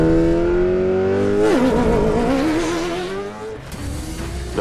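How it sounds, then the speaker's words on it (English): Ford V8 engine of a Dakar Raptor rally truck revving hard in the desert, a loud close growl rising and falling with a steady rumbling tone, alone with no talk. "The V8 sound is always going to be special, unique, a bit racy."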